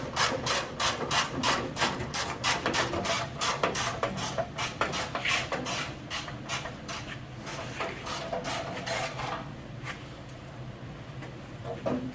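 Scraping and ratcheting metal work while a bolt is worked loose from a 1940 John Deere B tractor, a dense run of rapid rasping strokes that thins out toward the end, with no talk.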